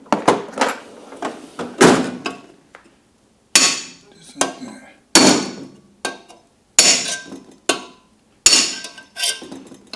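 A hammer strikes a metal punch to loosen wire nuts on a smart switch install, about a dozen sharp ringing taps in irregular clusters with brief pauses between, close and loud.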